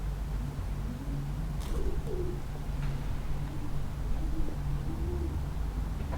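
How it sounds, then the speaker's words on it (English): Pigeons coo outside a window in soft, repeated calls over a steady low background hum, with no talking. "can you hear the pigeons I have outside my window?"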